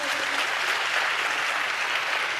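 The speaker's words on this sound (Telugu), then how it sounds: "చప్పట్లు కొడుతూ స్తోత్రాలు చెప్దాం." A church congregation claps hands together in steady, dense applause that fills the whole moment, fairly soft and even, with no voices on top.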